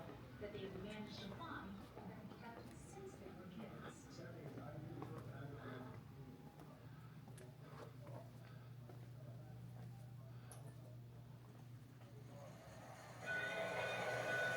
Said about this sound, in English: model train exhibit.